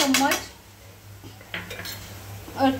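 Fresh black peppercorns crushed for a white sauce pasta, heard as a few sharp clattering metal-on-metal strikes in short bursts near the start and end, close and fairly loud in a quiet kitchen.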